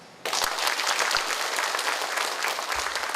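Audience applause breaks out after a lecture by the director of Korea's National Institute of Ecology, a dense, steady clapping from a large crowd that starts abruptly and holds at full strength.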